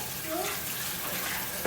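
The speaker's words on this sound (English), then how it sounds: "Then we're gonna drain the water." Water pours and splashes into a sink while it is drained during the making of salmon burgers, a steady rushing flow with a louder clunk at the very end.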